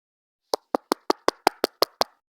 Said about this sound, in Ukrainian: Ви прям чуєте, як я прям масивно, прям як я масивно нажимаю своїм пальчиками